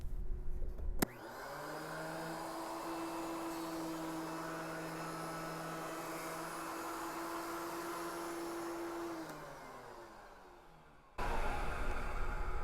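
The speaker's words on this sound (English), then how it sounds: "I'm also going to stand to the side as I use the planer." A wood planer whirs up suddenly and runs with a steady high mechanical drone and whine for several seconds, then spins down and stops, heard alone and fairly close.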